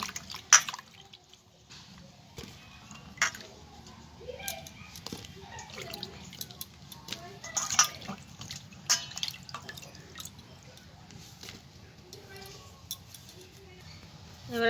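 Peeled onions being washed in water, with close, quiet splashing, dripping and squishy handling sounds scattered irregularly over a low background hum, no talking.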